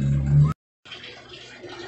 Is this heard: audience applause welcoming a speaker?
no